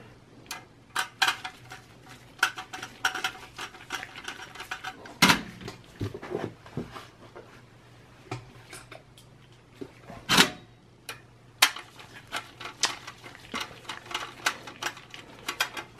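Screws being fitted into a Dell XPS 8900 computer case, a scattered series of sharp metallic clicks, taps and light clatter at irregular intervals, close and fairly faint against a quiet background hum.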